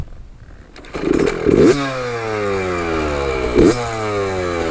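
A Yamaha YZ 65 dirt bike engine revs sharply twice, each burst climbing into a high, buzzing whine before settling into a steady raspy drone, close and loud.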